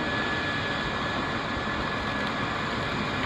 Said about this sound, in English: You see the fan blowing all the stuff out through the woods?